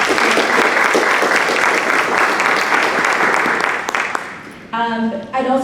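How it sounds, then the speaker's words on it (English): An audience claps loudly and steadily at a talk on James Baldwin's writing, the applause tapering off before a voice begins speaking near the end. "Please give them a round of applause."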